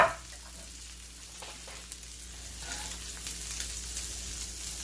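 Chicken pieces for stroganoff brown in a frying pan with a steady, moderate sizzle that continues throughout without pause.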